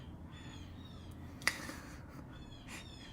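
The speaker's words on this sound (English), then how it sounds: "Oh my god, the blue jays." Blue jays call in the background, producing a few faint harsh cries at a distance, one sharper call standing out midway over a quiet room hum.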